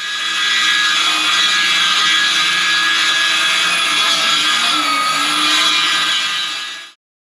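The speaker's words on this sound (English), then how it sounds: "The material that we're cutting down here is a 4x8 sheet of PVC plastic" A power saw trims a 4x8 sheet of PVC plastic into a floor panel, making a loud, continuous whining cut for about seven seconds before stopping abruptly.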